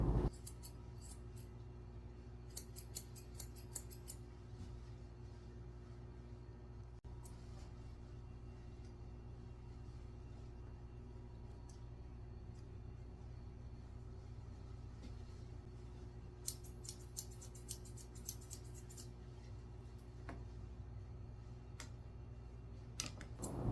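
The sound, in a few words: curved grooming scissors trimming a dog's hair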